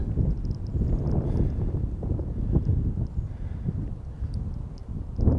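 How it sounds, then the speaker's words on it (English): Steady low rumbling wind buffeting an uncovered microphone, continuous and close, with gusts swelling and easing throughout; no voices. "Taking the foam off my microphone to see if you can hear the wind noise."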